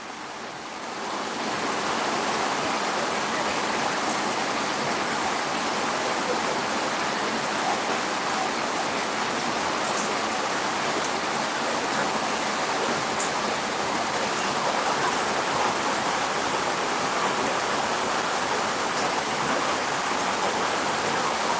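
Steady rain falls without a break, a dense, even hiss close by that holds at the same loudness throughout, with no talking.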